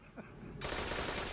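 Rapid gunfire from a favourite weapon in a Destiny PvP match erupts as a dense, continuous burst of shots after a brief quieter moment with a faint voice.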